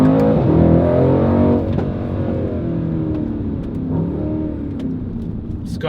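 A 2019 Mercedes-AMG C63 S Coupe facelift's engine revs loudly up close, its pitch climbing and dipping as the throttle is worked, with no talking over it.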